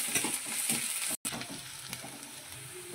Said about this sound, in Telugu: ఉల్లిపాయలు అయితే ఎనుకుంటున్నా